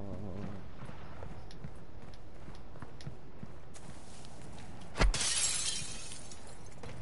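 Glass shatters in the Warzone 2 video game: one sharp, loud crash breaks out over low in-game ambience and footsteps, followed by a brief scatter of debris.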